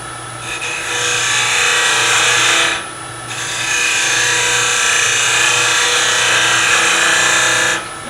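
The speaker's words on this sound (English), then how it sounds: "Scraping. I'm just roughly cleaning up the shape." A wood-turning lathe spins a miniature while a tool scrapes it into rough shape, a loud, close, continuous rasping drone broken by two short pauses.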